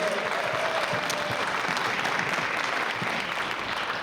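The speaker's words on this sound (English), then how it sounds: "Let's get one more little round of applause" Steady applause from a panel audience at CalArts, dense clapping sustained throughout at an even level.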